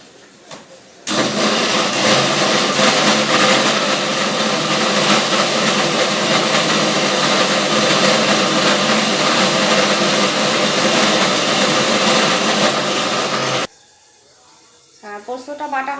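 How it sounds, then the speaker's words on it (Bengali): An electric grinder runs loud and steady for about twelve seconds, grinding poppy seeds into a paste in a home kitchen, then cuts off abruptly, followed by quiet clatter. "পোস্তটা বাটা হয়ে গেছে।"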